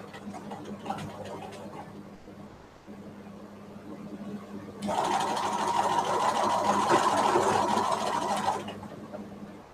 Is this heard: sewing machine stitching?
yes